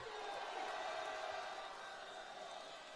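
Crowd at a political rally applauding and cheering, a broad steady wash of claps and voices held at an even level for the whole span, with no single voice standing out.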